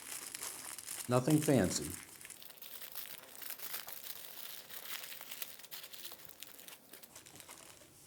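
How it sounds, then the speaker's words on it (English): Aluminum foil crinkles briefly as it is shaped into a small dish, a short burst of close crackling alongside a few spoken words, followed by quiet room noise. "You'll make a small dish with the aluminum foil."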